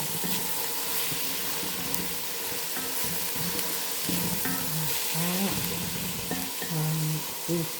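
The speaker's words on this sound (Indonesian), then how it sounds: "Goreng bawang merahnya." Shallots frying in a pan, a continuous close sizzle with occasional stirring clinks, while a voice speaks briefly in the background.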